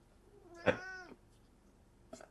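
A single close cat meow rises and falls in a quiet room, followed a second later by a faint, short chirp.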